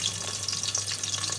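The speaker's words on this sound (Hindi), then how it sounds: "अब हम इन्हें ऑयल में डालेंगे और इन्हें अच्छे से फ्राई करेंगे।" Finely chopped onions frying in oil in a pan, a soft close sizzle with light crackles and a low steady hum underneath, no speech.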